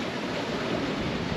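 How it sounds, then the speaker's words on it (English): Big undulating ocean waves at sea on a single-handed sailing passage from Bermuda to the Azores, a steady broadband wash of water and wind, close and continuous with no voices. "Big undulating waves."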